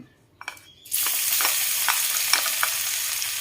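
Chopped garlic hits hot oil after a near-silent start, bursting into a loud continuous sizzle as it is stir-fried for a papaya and egg dish, with several spoon scrapes against the pan.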